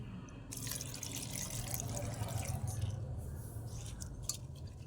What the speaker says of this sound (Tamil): அப்புறம் இதில் தண்ணி ஊற்றணும்.